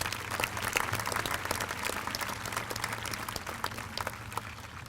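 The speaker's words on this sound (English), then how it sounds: "Please give them all a nice round of applause." A crowd at a high school graduation claps steadily for qualifying athletes, a sustained, even wash of applause from a large audience at some distance.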